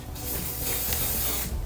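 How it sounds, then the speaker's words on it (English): A spray bottle misting a wig, heard as one sustained close hiss lasting over a second and then cutting off, with no talk. "Then we're gonna spray it."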